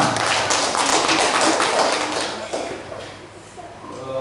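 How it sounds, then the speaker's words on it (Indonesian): Group applause from an audience at an Indonesian teachers' class session on positive school culture, a dense patter of claps with murmured talk underneath, gradually thinning toward the end. "terima kasih tepuk tangan untuk kita semua"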